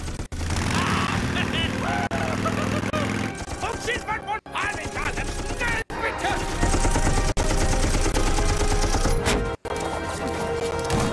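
A turret machine gun fires in dense, rapid bursts within a loud, busy game-style action mix, broken by a few sharp gaps, with voices talking underneath.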